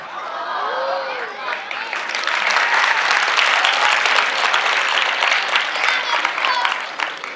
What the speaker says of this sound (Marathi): मुलीच टाळ्या वाजायला लागल्या